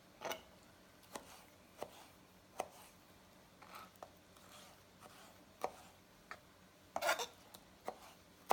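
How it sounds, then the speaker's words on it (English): A knife slicing tomatoes lengthwise on a cutting board, with soft irregular chops and taps spaced a second or so apart, some louder clacks near the end, heard close in a quiet kitchen. "And while we're cutting our tomatoes,"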